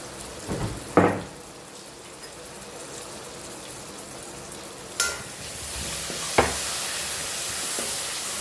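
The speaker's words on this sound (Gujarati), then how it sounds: "હવે એમાં પાણી એડ કરીએ." Water poured into masala of red chilli, turmeric, garam masala and salt frying in hot oil for a sev galka curry, giving sharp sizzling bursts over a steady crackling fry, close and fairly loud.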